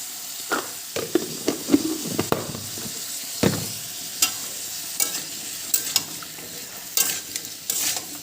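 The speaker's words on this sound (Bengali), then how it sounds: "যতক্ষণ ভাজা না হয় ততক্ষণ নাড়া দেবো" Chopped pumpkin and boiled soybean chunks fry in oil in a pan with turmeric and salt, a steady sizzle broken by repeated sharp scrapes and knocks of a spatula as the mix is stirred, close and fairly loud.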